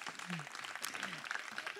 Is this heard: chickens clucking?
no